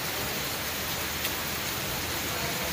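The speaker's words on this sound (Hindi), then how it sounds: "और बारिश हो रही है" Steady rain falling outdoors near a fort in Goa, a continuous dense hiss with no breaks, moderately loud and even throughout.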